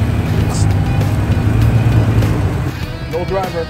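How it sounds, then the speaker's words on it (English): A Toyota FJ Cruiser working off-road among Jeeps and Broncos in Florida, its engine a steady low rumble close by, with people talking over it. "Look at him drive his FJ."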